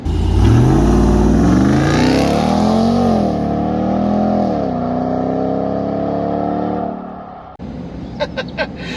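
A 2021 Ram TRX pickup truck's engine revs up hard through rising gear pulls with a whining supercharger tone, loud and close, then drops off abruptly.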